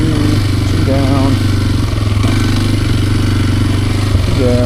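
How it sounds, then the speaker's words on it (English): Kawasaki KLX230R dirt bike engine while riding, a loud steady buzzing drone close up that shifts pitch slightly, with a rider talking over it. "Riding a bike is fun, but it's definitely different."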